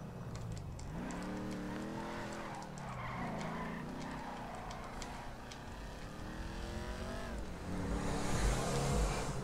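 Car driving in GTA V free roam, its engine revving with rising and falling pitch sweeps, tires skidding through the turns, growing louder near the end.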